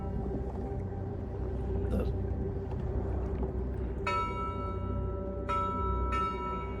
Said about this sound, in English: you hear a loud bell ringing from the docks